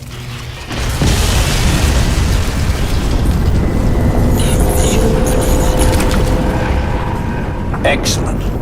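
A video game explosion in Crysis 2 hits as a heavy rumbling boom, then rolls into a long loud roar with crackling debris, and a voice speaks over it.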